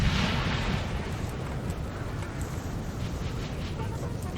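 Napoleonic-era artillery in Napoleon Total War fires with a dull booming burst at the start, then a constant rumbling battlefield roar with scattered distant cracks.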